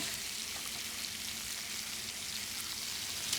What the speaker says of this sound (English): I'm going to cook the lamb for a few minutes on the other side.